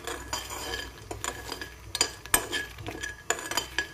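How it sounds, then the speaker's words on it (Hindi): Makhana (fox nuts) tossed and stirred in a ghee-coated kadhai, giving scattered clinks and scrapes of a spoon against the metal pan. The taps come in an irregular rhythm, close and moderately loud, with no talking. "इसी पेन में मैं थोड़े से मखाने भी फ्राई कर रही हूँ।"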